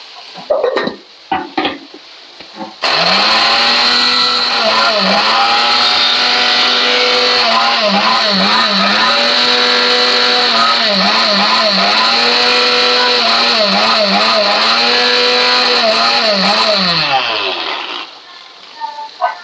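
A kitchen mixer grinder whirs loudly and steadily for about fourteen seconds as it grinds roasted sesame, poppy seeds and tomato, its motor pitch dipping briefly under load before it stops.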